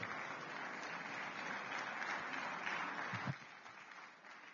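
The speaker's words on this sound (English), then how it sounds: "I thought we'd do a better round of applause." A conference audience at a governance and democracy event gives a sustained round of applause, a dense even wash of clapping heard from a distance that drops off noticeably near the end.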